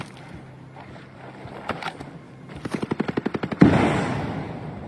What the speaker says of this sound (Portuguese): Mano, tem um sniper me quebrando aqui, velho.